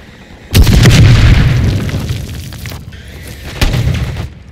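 Bomb blast in a video game: a loud, close boom with a rumbling decay, followed a few seconds later by a second, smaller explosion.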